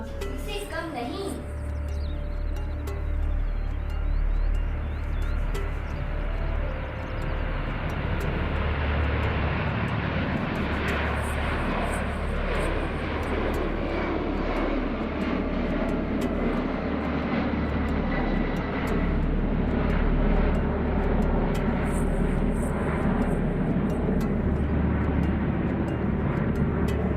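Airplane engine effect played at a school Independence Day assembly, a loud sustained jet roar building and swelling over about half a minute while a voice talks over it.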